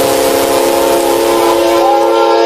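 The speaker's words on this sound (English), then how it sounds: "police dashcam footage captures the moment a train crushes a defenseless suspect" A train passing with its whistle blaring at a rail crossing, a loud sustained horn chord over rushing noise, very close and overwhelming.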